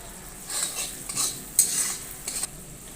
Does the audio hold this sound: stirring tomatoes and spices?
yes